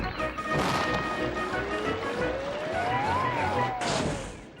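Thomas the Tank Engine, going too fast as the driver brakes, comes off the rails in a loud, noisy crash with a rising and falling whine over the clatter and a final burst of noise.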